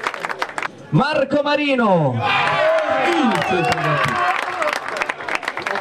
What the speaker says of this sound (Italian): Allora farei un applauso a Gaetano Scirea